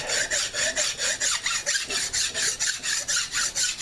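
A hand file rasps back and forth over hardened JB Weld Extreme Heat on a steel cylinder head, a steady rhythm of about a dozen close, even strokes, each a bright scraping burst with no talking.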